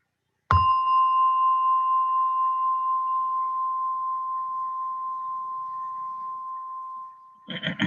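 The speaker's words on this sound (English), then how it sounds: "as you hear the gong, slowly open your eyes" A single meditation gong struck once, its clear ringing tone sustained and slowly fading over several seconds in a quiet room, with a brief clatter of other sounds at the very end.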